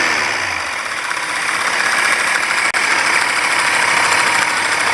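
A 1984 Corvette engine holds a steady, loud, throttled-up roar with a constant rumble, cut by one brief dropout midway.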